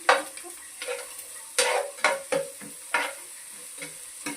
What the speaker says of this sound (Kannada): ಇದು ಸ್ವಲ್ಪ ಚೆನ್ನಾಗಿ ಫ್ರೈ ಆಗಿ